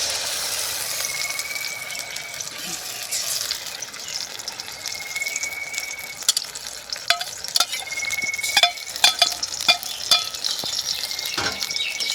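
A wet paste of coriander leaves, green chili and garlic fries in mustard oil, hissing and bubbling steadily while a spatula stirs and scrapes with repeated clicks, close up and without speech.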